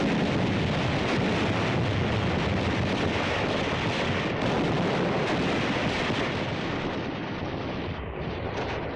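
A dense, continuous roar of battle at Tarawa fills the scene: gunfire, mortar blasts and flamethrower bursts merge into a loud, unbroken wall of noise with no clear separate shots.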